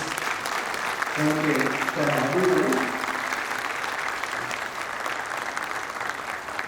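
An audience at a Hindi poetry gathering claps loudly and continuously, with a voice speaking briefly over the applause near the start.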